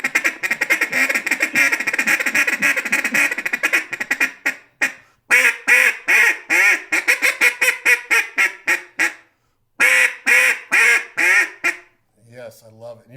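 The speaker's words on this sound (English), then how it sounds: "you got a world-class duck calling guy, and you ask him to blow a duck call" A duck call blown by an expert caller in a Riching tone, a long loud series of raspy quacks, first a rapid run, then spaced single notes and short cadences, close and alone.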